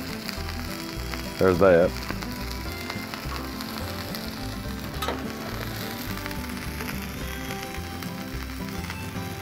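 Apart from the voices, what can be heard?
fries sizzling in canola oil on a Blackstone griddle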